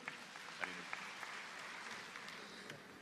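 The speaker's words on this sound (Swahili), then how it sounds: "Makofi mengi sana." A large audience at a formal Tanzanian ceremony breaks into sustained applause, a dense steady roar of many hands clapping with a few sharper individual claps standing out, heard alone.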